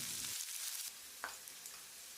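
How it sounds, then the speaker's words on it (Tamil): Sliced big onions and dried red chillies fry in a pan for a Tamil country chicken curry, giving a steady close sizzle with a soft stirring scrape partway through and no voices. "வெங்காயத்தை செவக்கிற அளவுக்கு வதக்கிடலாம்."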